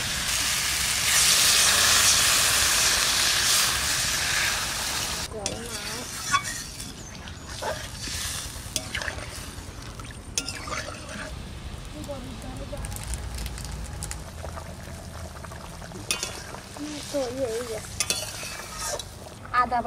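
Potatoes with fried spice masala sizzle loudly in a pan for a fish curry as water goes in, a strong hiss at first that settles into steady bubbling and stirring with scattered clatter, with a voice speaking at times.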